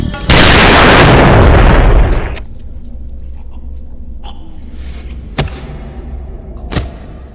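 A gunshot rings out in the film Fight Club as a loud, sharp blast that rolls on for about two seconds before fading into quieter background sound with a few faint thumps.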